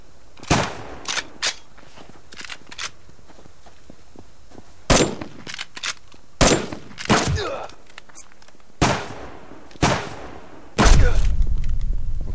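Sharp, loud gunshots ring out one at a time at irregular intervals in the Subsistence survival game, each a close crack with a short tail, ending in a longer rumbling burst.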